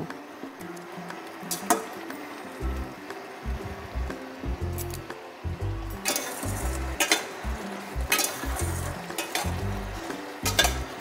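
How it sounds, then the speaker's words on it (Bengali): A soya tikki masala mixture being stirred in a pan, with soft scraping and squelching strokes over a low sizzle, close by and steady, with no talking. "এটাকে 5 মিনিট মতো নাড়িয়ে নেব।"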